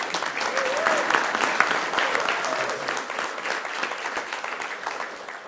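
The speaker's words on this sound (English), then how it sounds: "let's give Tanya a round of applause." Council meeting audience in Sioux Falls applauding an award recipient, a sustained burst of clapping from a roomful of people that slowly tapers, with a few voices mixed in.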